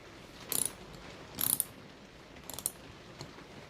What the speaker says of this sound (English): I realized the screwdriver was too long